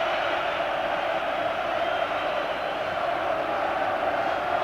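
A big Anfield crowd roars through a Liverpool versus Barcelona UEFA Cup football match in 2001, a dense, far-off wash of cheering and noise that holds steady with no break.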